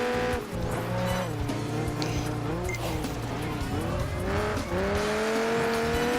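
A Corvette Z06 race car in Project Gotham Racing 4 nearly crashes, its engine revving and shifting steadily while tires squeal through a near-loss of control, all fairly close and continuous.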